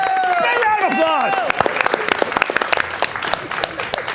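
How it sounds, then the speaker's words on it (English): Audience applause at a live Saturday night game show, scattered clapping breaking out halfway through over cheering voices and a lingering sung tone, continuing with distinct claps to the end. "Big round of applause."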